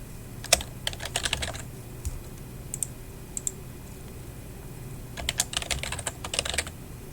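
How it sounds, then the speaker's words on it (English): Bursts of rapid typing on a computer keyboard, clicking in quick clusters separated by short pauses, close and clear. "Click in here once, start typing. Make sure that you double check your typing."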